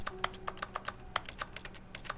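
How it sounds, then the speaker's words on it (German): Keyboard typing sounds in the video game The Stanley Parable: a quick irregular run of crisp, close key clicks, fairly faint, with no talking. "Ich drücke die linke Maustaste und ich höre Tastaturgeräusche."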